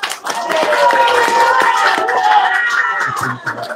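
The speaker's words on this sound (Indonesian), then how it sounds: "tepuk tangan buat Aliansi Rakyat Menggugat" Steady applause from a crowd, many hands clapping continuously at a fairly loud level for several seconds, fading slightly at the end.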